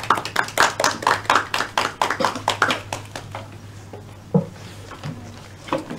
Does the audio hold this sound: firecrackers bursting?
no